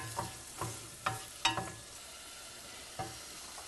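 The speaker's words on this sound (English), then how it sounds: "what we want to do is saute these onions until they're translucent" Onions sauté in a pan under a quiet, steady sizzle, with several soft, evenly spaced scraping strokes of a utensil stirring them.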